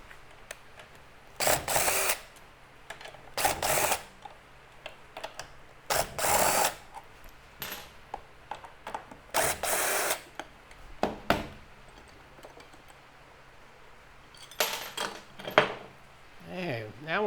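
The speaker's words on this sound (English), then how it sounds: "Let's get that valve cover off and see what's going on in there" Hand tools work the valve cover off a Yamaha golf cart engine, with intermittent bursts of ratcheting and metallic clicks separated by quieter gaps.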